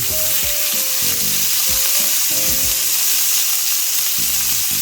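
Steady loud sizzling of ground beef frying in a pan, with intermittent scraping and stirring sounds from a utensil.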